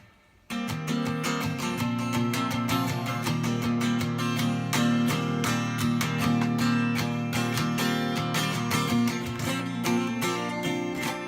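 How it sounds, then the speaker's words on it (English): Steady fingerpicked acoustic guitar, the thumb and fingers rolling back and forth across the strings in a continuous, even pattern, played close and alone for the whole stretch. "you're going in with your thumbs, roll over, and back up with or in with your finger, roll over, back up with your thumb, like that."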